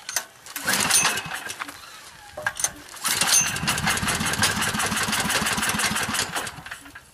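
A generator engine running on wood gas from a wood stove sputters and catches, then settles into a steady rapid chugging that fills most of the stretch, close and fairly loud.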